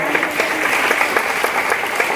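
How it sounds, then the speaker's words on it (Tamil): An audience at a Tamil community service association event claps in a steady, dense burst of applause that carries evenly throughout. "ஒரு பெரிய கரகோஷத்தை கொடுக்கலாமா?"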